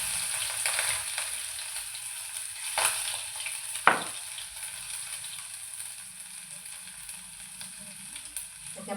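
Ginger-garlic paste and curry leaves sizzle and crackle in hot oil with mustard seeds and asafoetida, a steady close frying hiss with a few sharp pops and stirring clatters.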